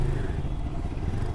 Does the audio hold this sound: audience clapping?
no